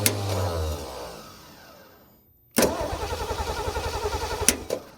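A duct tape drag racing car engine cranks, dies away into near silence, then fires and catches, settling into a loud, rhythmic, lumpy idle with a couple of sharp revs close by.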